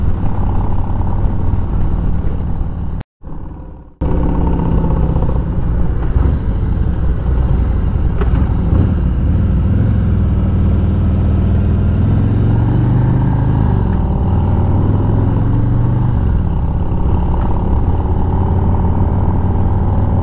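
A 2020 Police Electra Glide motorcycle engine runs steadily at close range with continuous road and wind rumble, briefly dropping out for a moment before resuming.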